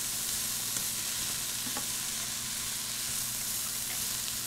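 Stir-fry vegetables sizzle steadily in a hot pan, a continuous close hiss with faint scrapes of stirring and no talking.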